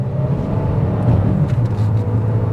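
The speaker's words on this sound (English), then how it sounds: "now we're going to get up to speed a little bit" A 2027 GMC Terrain accelerating at about half throttle, a steady low engine drone and road rumble from inside the cabin, loud and continuous with no talk.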